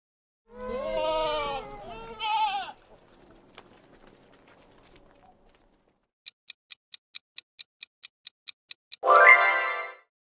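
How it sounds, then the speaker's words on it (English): Goats bleat in a few wavering, nasal calls, loud and close, with a pause between them; a quiet stretch and a run of regular ticks follow before another bleat-like burst. "Goats."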